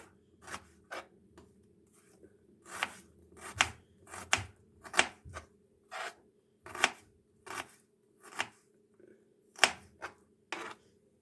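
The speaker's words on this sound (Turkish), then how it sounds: "soğanlarımı da bir adet sarımsağımı da doğradım." Sharp knife strokes chop onions and garlic against a cutting board in an irregular series of about a dozen crisp, close hits, with brief pauses between them.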